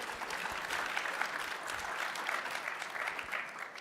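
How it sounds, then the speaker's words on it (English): An audience at a security conference claps steadily throughout, a dense, even wash of applause with no voices standing out. "Can we get a quick round of applause for them?"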